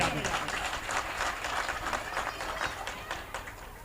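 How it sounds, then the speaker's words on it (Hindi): A crowd at a religious consecration ceremony claps steadily in dense, fast applause that carries on throughout, loud and close. "मैं सबसे पहले चाहता हूं उनके लिए एक जोरदार तालियां बजा दें"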